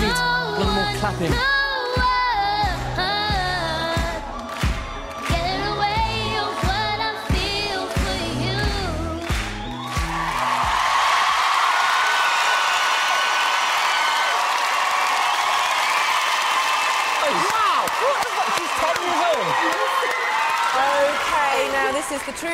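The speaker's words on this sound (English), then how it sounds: "A little more clapping." Audience applause and cheering at a Britain's Got Talent performance by a young girl singer, a sustained loud wash of clapping and whoops rising as the music ends.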